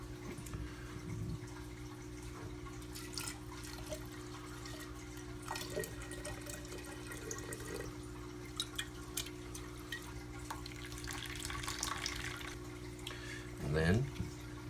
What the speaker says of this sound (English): So all we need to do today is just give these seed sprouts a rinse.